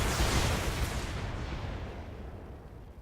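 A volley of missiles launching and detonating in the BattleTech mech video game, a dense rolling barrage of booms and crackling blasts that starts loud and slowly fades into a rumbling tail, with no talk.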